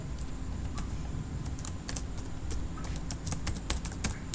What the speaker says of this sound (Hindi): यहाँ पर कुछ और टाइप कर देते हैं